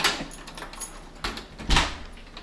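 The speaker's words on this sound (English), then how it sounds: "Go on, open the door" Door in a hotel room being opened, with a few quiet clicks and knocks of the handle and latch, then a louder thump as it swings open.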